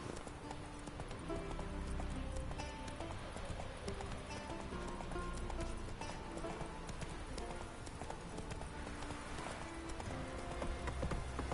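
A horse gallops in The Witcher 3: Wild Hunt, its rapid rhythmic hoofbeats drumming continuously and prominently over game sounds.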